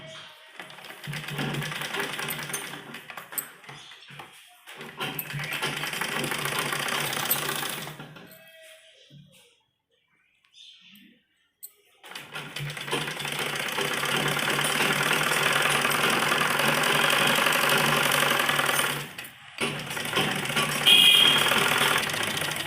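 A sewing machine stitches a baby frock in fast, steady runs of rattling clatter, stopping for a few seconds of near silence midway before resuming in a longer, even burst.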